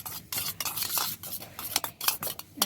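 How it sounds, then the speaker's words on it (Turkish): Tomato paste and oil are stirred in a pan for Çorum bulgur köfte sauce, with close, irregular scraping and clinking of a utensil against the pan and a faint sizzle. "Evet karıştırıyor."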